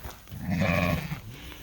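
A single sheep bleats for about a second, a wavering, nasal call close by, followed by quiet.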